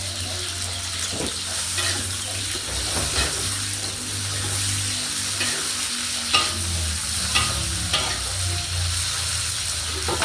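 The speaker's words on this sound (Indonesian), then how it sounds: "Jadi anak-anak kecil goreng ndok." Steady sizzle of an egg frying fills the background, broken by a few soft clinks and scrapes of a utensil against the pan.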